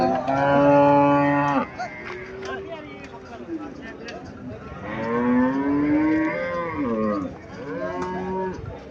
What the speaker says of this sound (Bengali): এখানে একটা গাভী দেখা যাচ্ছে।